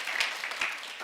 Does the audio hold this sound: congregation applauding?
yes